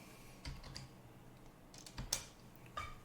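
A file name being typed on a computer keyboard, a few faint scattered key clicks and taps at close range in a quiet room, with no speech.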